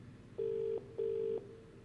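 A telephone aboard a submarine in the horror game Monstrum rings in two even, sustained electronic tones separated by a short gap, clear over a low ambient hum.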